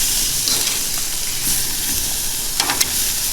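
Sous vide steaks sizzle steadily in a hot pan right after being flipped, a loud, continuous bright hiss with a few sharper crackles and pops near the end, with no voices.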